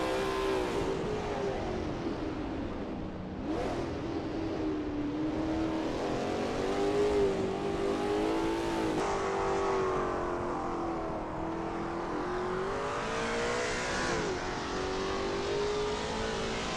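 A Lola T70 MkII Spyder race car at Sebring in a racing video game howls continuously at high revs, its engine pitch rising and dipping through gear changes and corners, loud and close with no talk.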